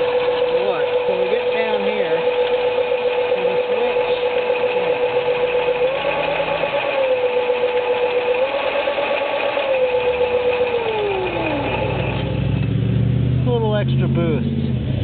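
An electric go-kart motor runs near full throttle with a steady whining hum that holds pitch, then slides down toward the end, while someone talks throughout.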